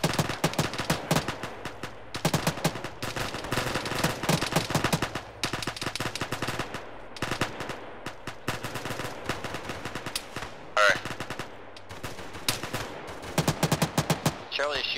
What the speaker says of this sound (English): Charlie is shooting right past us over here